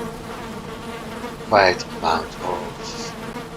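Bees buzzing at a pair of beehives in the Valheim video game, a soft background hum beneath a few short bursts of speech.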